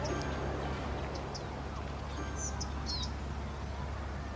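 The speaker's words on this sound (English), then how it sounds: "there's also a lot more vegetation as well, a lot more bird noise" Birds chirp faintly in the video game Cities Skylines, a few brief high tweets scattered over a steady low hum of ambient city background.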